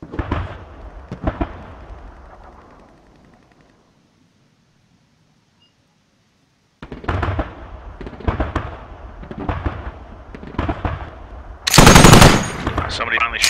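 Rapid automatic gunfire bursts in a video game crackle loudly in two stretches, split by a long silent gap, ending with a very loud, dense volley, while players talk over the shooting.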